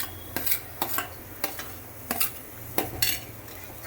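Onions and green chillies frying in a pan for paneer bhurji, with a soft sizzle under repeated sharp scrapes and clinks of a spoon stirring against the metal pan.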